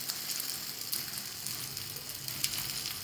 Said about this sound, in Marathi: जे होल आहेत ना त्याच्यामध्ये असं थोडं थोडं तेल टाकायचं म्हणजे छान असं खरपूस असं भाजले जाते